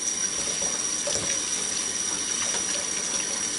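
Stainless steel and plastic parts of a Waring food slicer, including its gear, being washed under a running tap: a steady, even rush of water throughout, close and uninterrupted, with no talk.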